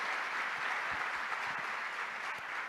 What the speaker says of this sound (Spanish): La recibimos entonces con un fuerte aplauso